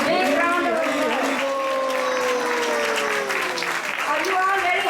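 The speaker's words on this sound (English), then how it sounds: "let's give a temple management of Atlanta for hosting everybody a big round of applause" A temple festival congregation applauds loudly for the hosts, dense clapping blended with sustained singing or chanting voices throughout.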